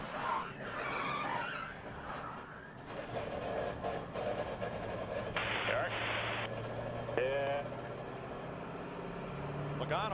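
At a 2011 Sprint Cup Budweiser Shootout NASCAR race, stock cars slide into a corner with a sustained tire skid and a roaring engine drone, while a broadcast commentator talks over the noise.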